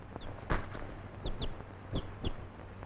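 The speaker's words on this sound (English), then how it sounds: "A chicken?" A chicken clucks in a quick series of short, sharp calls, about six of them spaced irregularly, close by and fairly quiet, in a 1940s Western film scene.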